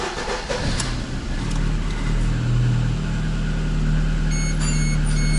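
A VAZ 2114 car's engine is started for the first time after a rebuild and settles into a steady, loud idle hum, with a faint high beeping near the end.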